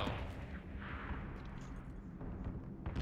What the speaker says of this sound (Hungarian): Volt egy lövés hallottam valahol.